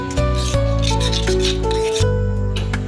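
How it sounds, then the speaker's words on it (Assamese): Onion and spices for an Assamese pork curry being ground with a little water, a loud steady mechanical grinding with shifting hum, close and continuous, with no talking. "মছলাবোৰ এনেকৈ পানী অলপ দি পেলাই ভালকৈ কুটি ল'ব"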